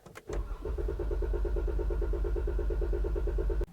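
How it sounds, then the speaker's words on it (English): A Jeep Grand Cherokee 3.6 engine with the accelerator held to the floor cranks steadily without firing after rocker arm and camshaft replacement, the starter churning in an even rapid rhythm for about three seconds before cutting off, close and alone. "You can hear it just cranking."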